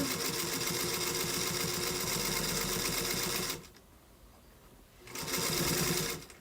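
A sewing machine runs steadily as it stitches a quilt about an eighth of an inch from the fold. The motor hums loud and close for several seconds, stops briefly, then starts up again.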